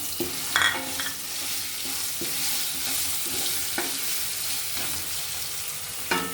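Boiled potatoes and green chillies sizzling in a pan over a medium flame for Gujarati poha, a steady close frying hiss with occasional stirring clinks and scrapes, no voices.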